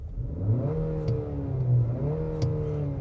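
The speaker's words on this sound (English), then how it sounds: "you can hear when the engine fires up, aside from it having, a more, tinny 4-cylinder sound" A 2025 Infiniti QX60 Autograph SUV's 4-cylinder turbo engine runs and revs nearby, its tinny note rising and falling through a couple of throttle blips with no talk over it.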